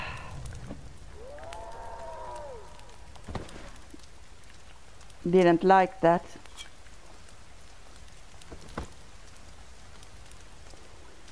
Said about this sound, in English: It's raining, you know.